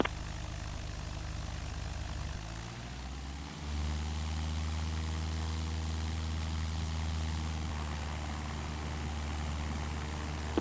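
Cessna aircraft engine at takeoff on runway 22 right at Mather: a steady propeller drone whose pitch rises and settles into a sustained roar, heard continuously and fairly close with no talking.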